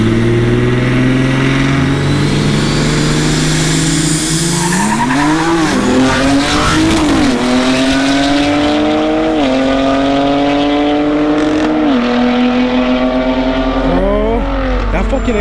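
A big-turbo BMW 340i and a fully built Toyota Supra run side by side at full throttle, engines climbing through repeated upshifts with rising whines, tire squeal at launch, loud and close from inside the car, with occasional voices.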